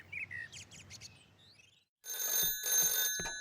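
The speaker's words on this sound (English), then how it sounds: "The next day, the phone rang in Pat's house." A telephone bell rings in bright repeated trills in a house in a Postman Pat children's animation, following a few light bird-like chirps and a short hush.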